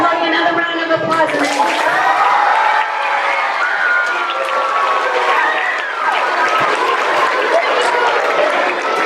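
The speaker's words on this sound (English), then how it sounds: "let's give Cody another round of applause" A school assembly audience applauds a student named Cody, with steady clapping mixed with loud cheering and excited voices that stay at a constant, high level throughout.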